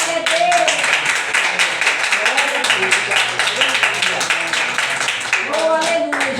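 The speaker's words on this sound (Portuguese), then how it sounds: "E as palmas louvam ao Senhor." A church congregation claps hands in praise during a worship service, giving a dense, steady patter of many hands under singing and voices throughout.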